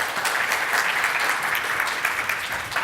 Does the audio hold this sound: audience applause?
yes